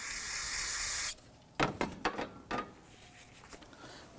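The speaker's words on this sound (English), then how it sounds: "Use some spray solvent on a rag." A loud aerosol solvent spray hisses steadily for about a second onto a rag, then stops, followed by a few soft scraping and wiping sounds close by.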